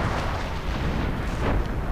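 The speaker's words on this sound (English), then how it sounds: "More Hummel artillery firing on the... Oh, right under the center VP!" Hummel self-propelled artillery fires in a real-time strategy game, producing a dense, rumbling barrage of booms and blasts that fills the whole stretch at steady loudness.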